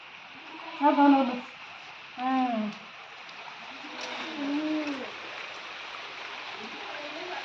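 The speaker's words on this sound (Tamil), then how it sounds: "மழை பெஞ்சிக்கிட்டே இருக்குது" Steady rain falls in a village, a constant soft hiss throughout, with a few brief voice-like sounds rising over it early on.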